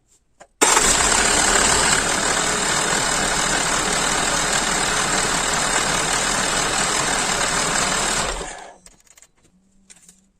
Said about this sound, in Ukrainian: Заводимо двигун